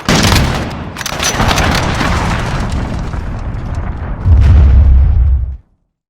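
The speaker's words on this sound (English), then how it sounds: "Enemy cruise missile, take cover!" A cruise missile explosion in Call of Duty: Modern Warfare: a dense, loud roll of booms and blasts with no break, then a deeper, heavier rumbling impact near the end that cuts off abruptly.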